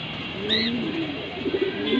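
Pigeons of the Moyna Jhak breed, a triple-stripe red-geared pair, give soft low cooing calls close by, with a brief higher chirp early on and a steady hum of surroundings beneath.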